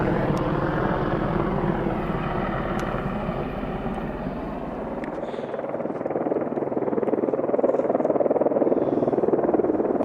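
A second Apache helicopter passes overhead at night, its rotor and engine noise a steady, broad drone that swells slightly as it crosses above.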